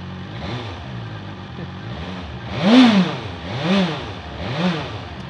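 A BMW S 1000 XR sport-touring motorcycle engine runs near and loud, swelling in three distinct throttle revs with rising and falling pitch over a steady idle.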